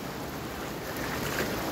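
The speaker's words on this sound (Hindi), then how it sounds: "वो पानी यहाँ से ये बह रहा है" Steady rushing wash of water flowing along a stream at Mola Hatachi picnic point in Khuzdar, a broadband outdoor roar that stays even and continuous throughout.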